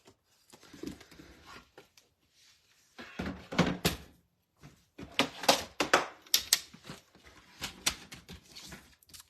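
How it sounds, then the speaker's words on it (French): Paper card being scored with a scoring tool during card making, a series of short scraping and tapping bursts in uneven clusters separated by quiet gaps, close and fairly faint. "Et là, je vais venir rainurer."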